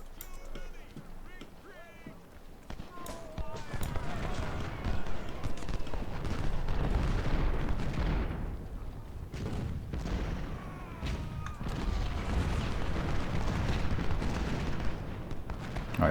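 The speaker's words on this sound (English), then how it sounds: "So we just managed to engage them with rifles." Rifle volleys crackle in the video game Ultimate General Civil War at the Battle of Malvern Hill, a continuous wash of scattered gunfire with booming artillery underneath, loud and sustained, while someone talks over it.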